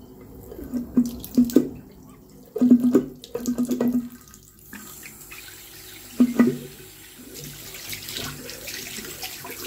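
Water runs from a tap into an unblocked sink drain, gurgling and burbling in short uneven bursts before settling into a softer steady trickle, close and without talk.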